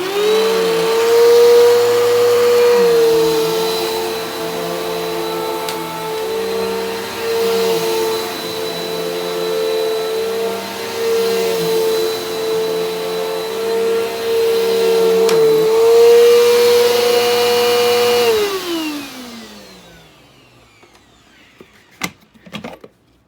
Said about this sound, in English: You'll hear this thing, it's starting to whine quite a bit.